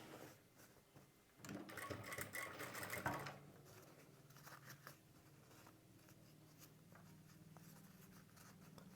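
A sewing machine stitches a shirt collar in a quick, close burst lasting nearly two seconds. Quiet fabric handling and faint low hum follow.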